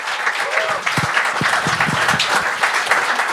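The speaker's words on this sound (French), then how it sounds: "On peut l'applaudir" Audience applause at a comedy talent show, a dense steady wash of clapping from a crowd, with a few voices calling out underneath.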